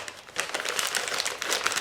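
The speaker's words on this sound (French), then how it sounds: "je vais prendre une lingette" A wet wipe is tugged from its soft plastic packet, giving a close, crackly burst of crinkling and rustling that lasts under two seconds, with no talk.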